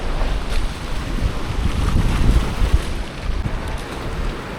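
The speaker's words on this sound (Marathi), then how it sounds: "पाणी बघा बाई. लाटा बघा लाटा नुसत्या लाटा" Sea waves wash steadily against the shore beside a jetty near a temple, a broad, continuous rushing roar mixed with wind buffeting the microphone.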